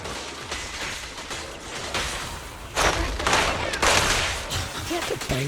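Gunfire from an attack animation in Zenless Zone Zero, a series of loud shots and thudding booms in uneven bursts over background game noise, getting stronger in the second half.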